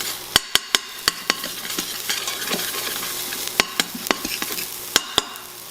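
A spoon scrapes garlic and ginger around a hot pan, with a steady close sizzle broken by a run of sharp metallic scrapes and taps against the pan.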